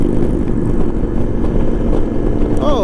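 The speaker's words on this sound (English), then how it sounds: "Oh, motorcycle." A motorcycle passing on a road, with a loud, continuous engine roar up close.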